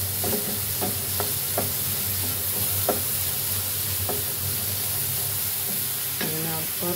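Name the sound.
frying onion and ginger with salt for village-style chicken curry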